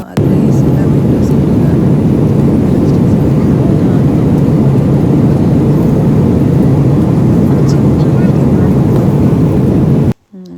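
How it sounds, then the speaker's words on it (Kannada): A passenger airplane takes off on a flight to Singapore, heard from inside the cabin as a loud, steady, low engine roar that fills the whole stretch and cuts off abruptly at the end. "ನೋಡಿ ಟೇಕಪ್ ಆಯಿತು."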